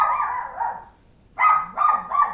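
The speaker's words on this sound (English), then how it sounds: "Everybody enjoy the very loud barking dog." A dog barks loudly and close, a few sharp barks after a drawn-out bark, with a short silent gap between them.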